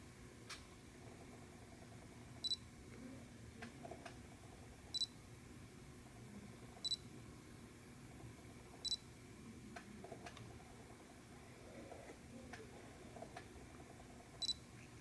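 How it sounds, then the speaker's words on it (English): Faint, evenly spaced clicks and brief whirs from a Canon EOS 6D focusing through the autofocus-on button of a DSTE BG-E13 clone battery grip, heard close over a quiet room with no talking. "we're going to test the autofocus on button"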